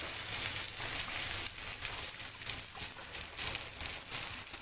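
Fish curry made with fresh nalba fish fries steadily in a pan, a continuous close sizzle with faint patter and no voices.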